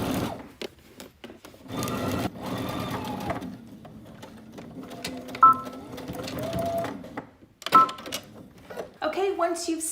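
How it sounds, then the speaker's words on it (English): A sewing machine runs in bursts, stitching a garment fly at a 5/8 inch seam allowance, starting and stopping, with a person talking over it. "Now you're gonna go to your sewing machine. You're going to stitch this"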